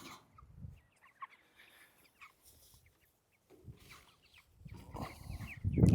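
Backyard chickens cluck and call in short scattered bursts at close range, with quiet gaps between, then louder rustling and thumps near the end.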